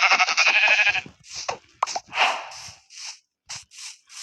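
Sheep bleat in the video game Minecraft: a loud wavering bleat at the start, followed by several shorter bleats and soft crunchy game sounds, no talk.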